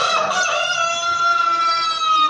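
A rooster crows in one long, loud, drawn-out call that fills the whole moment, with no talking, at a highland resort.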